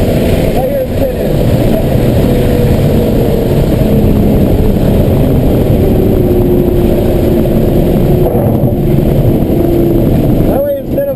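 A car engine droning steadily and loudly while driving slowly around a race track, a constant low rumble from inside the cabin with faint voices underneath.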